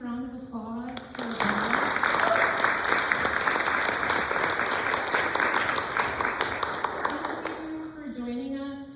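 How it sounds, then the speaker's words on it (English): Dense, loud applause from an evening event audience, rising after a brief spoken introduction and sustained for several seconds before fading back under a speaking voice. "Can we give a round of applause"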